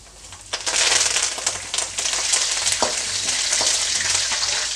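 Mustard seeds, cumin and curry leaves with peanuts sizzle steadily in hot oil for churumuri, with dense continuous frying hiss, scattered sharp pops and crackles close by, and no talking.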